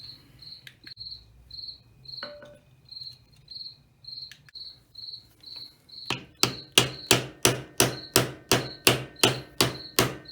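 Sharp metallic hammer blows strike in a steady rapid series, loud and close, while removing Harley-Davidson Street Glide shifter shaft bushings, after a stretch of rhythmic chirping insects in the background.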